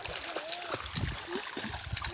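Splashes from children jumping into a shallow water hole during a holiday outing, with several irregular splashes and water sloshing under nearby voices.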